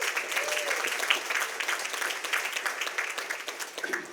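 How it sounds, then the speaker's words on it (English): Crowd applause fills a banquet hall at a Young Life banquet in Boonville, steady and dense throughout with a few faint voices mixed in. "Let's give them a big round of applause."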